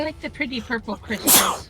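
A character sneezes once in Divinity: Original Sin, a short sharp burst just after calm spoken dialogue, loud and close at the end of the line.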